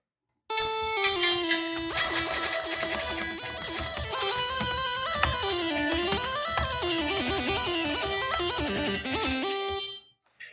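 A synth patch run through Morphin 8's PWM filter in FL Studio plays a bright, buzzy sustained line with sliding, shifting pitches for about ten seconds, loud and alone, then cuts off abruptly.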